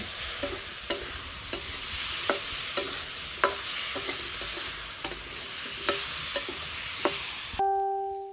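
Spiced food sautés in a pan while a spoon stirs and knocks against the metal at regular intervals, a close steady sizzle under the clacks, ending abruptly.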